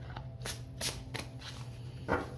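Quick, soft riffles of a borderless tarot deck being shuffled, several short flutters in a loose rhythm, close and fairly quiet over a low hum.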